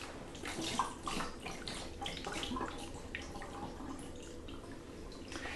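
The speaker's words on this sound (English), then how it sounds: "and just rinse it in some cold water" Cold tap water running over a peeled tomato, a soft, steady splashing and trickling with small drips, faint and continuous without talk.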